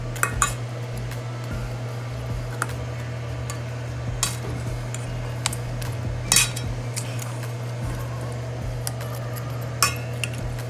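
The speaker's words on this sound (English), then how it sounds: "Go ahead and toss your wings around in the sauce." Chicken wings tossed in Buffalo Wild Wings sauce in a bowl: soft wet stirring with scattered clinks of utensil on dish over a steady low hum.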